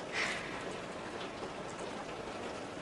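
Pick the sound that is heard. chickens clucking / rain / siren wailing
rain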